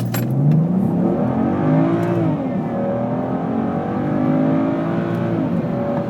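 A tuned BMW 335i with N55 engine and RaceChip RS tune launches at full throttle, engine note sweeping up through gears in a loud, sustained roar with rising and falling pitch, close and continuous without talk.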